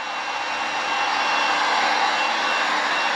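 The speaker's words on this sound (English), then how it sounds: "I'm speeding up the process with a heat gun." A heat gun blows steadily and loudly to speed-dry freshly brushed paint primer, a continuous even rushing roar with no pauses throughout.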